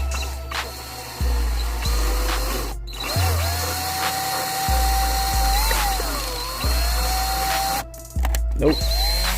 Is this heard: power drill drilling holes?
yes